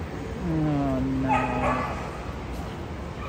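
A dog whimpers and whines in drawn-out, wavering tones with a short yip, close and fairly loud, during a working-dog class with no clear talk over it.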